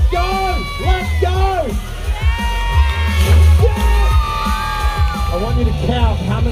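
A crowd at a BMX and skateboard stunt show at the Australian Open screams, whoops and cheers in loud bursts, with shouting voices rising over the noise.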